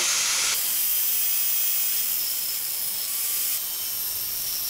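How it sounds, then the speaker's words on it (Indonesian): A cutting grinder slicing through scrap steel angle plate, a loud continuous high-pitched hiss and whine close by, with a brief change in tone near the start and another near the end. "kita potong kembali menggunakan gerinda potong"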